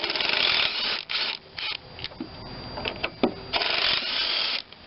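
A ratchet clicking in short bursts while removing screws from a Craftsman AYP mower carburetor, close and fairly loud, with pauses between turns and no talking.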